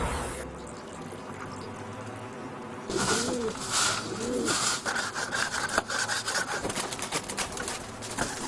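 Pigeons in a coop give a few soft, low cooing calls over a steady scraping, rasping sound like wood being rubbed or sawn, with constant background noise throughout.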